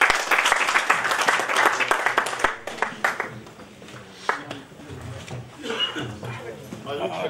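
Clapping at a Punjabi kavi darbar poetry gathering welcomes a performer with dhad and sarangi. A burst of crisp applause fills the first few seconds, then thins into softer background murmur and sounds.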